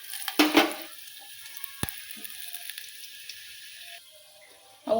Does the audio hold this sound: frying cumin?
yes